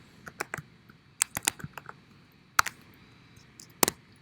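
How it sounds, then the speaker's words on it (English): Typing on a computer keyboard while setting up a Node.js server: scattered, uneven clicks and key taps, some louder strokes standing out, close up with no speech. "I'm going to be typing it like this."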